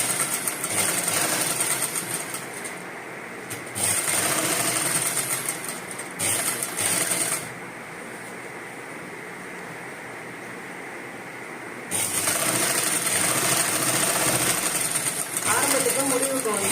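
A sewing machine stitches the collar of a government school uniform coat. It runs in steady, close, whirring bursts, pausing briefly between them, with a longer stretch of quieter hum in the middle.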